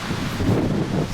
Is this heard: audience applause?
no